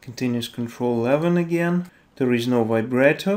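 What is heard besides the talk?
No everyday noises stand out.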